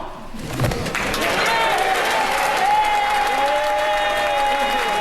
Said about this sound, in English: lots of cheering there from the people who just got rid of him